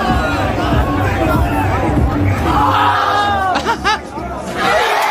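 A crowd at an event cheers and chatters loudly for a girl's bottle flip, a dense roar of voices with a burst of excited whoops and shouts near the end.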